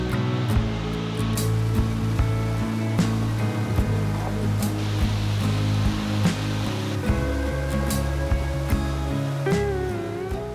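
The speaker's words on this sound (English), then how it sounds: "The water was falling on the rock and was flowing into the lake just a few meters below." Water pours steadily onto rock at Pogilla waterfall in Telangana, a dense continuous rushing wash with scattered splashes, close and unbroken throughout.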